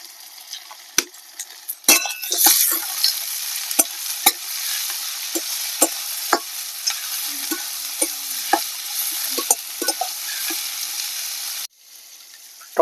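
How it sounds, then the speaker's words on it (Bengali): Chopped tomato and chili frying with browned onion in a pan, giving a continuous close sizzle punctuated by sharp clinks and scrapes of a spatula against the metal, before the sound suddenly cuts out near the end. "টমেটোটা আমি এখানে 2 মিনিট ভেজে নিয়েছি।"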